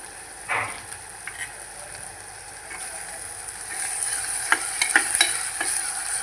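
Onion and tomato sauté inside a cooker, giving a moderate frying sizzle broken by repeated metal scrapes and clinks of a spoon stirring, which grow busier toward the end; no one speaks.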